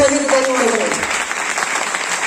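An audience claps for a mentor at an informal gathering, a dense burst of steady applause lasting a couple of seconds, with a voice briefly audible over it at the start.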